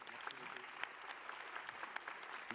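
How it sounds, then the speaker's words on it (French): An audience applauds the recipient of a first Norgine award at a CNGOF gynecology and obstetrics society event. The even, continuous clapping is moderately distant and soft for the whole stretch. "vous pouvez l'applaudir encore"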